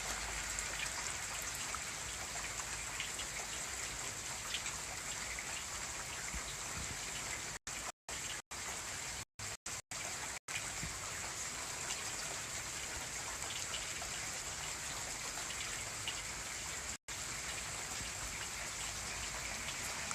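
Steady, heavy rain hisses continuously for the whole stretch, with no voices and a few brief dropouts.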